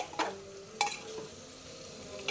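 Spiced mutton is being sautéed and stirred inside a pressure cooker. It gives a soft, steady sizzle with a couple of sharper scraping stirs near the start and again partway through.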